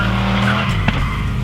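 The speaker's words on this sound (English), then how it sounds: "So they have to actually drift uphill." A drift car skidding uphill on a reverse course, tires squealing continuously over a loud, steady engine roar, close and sustained through the whole moment.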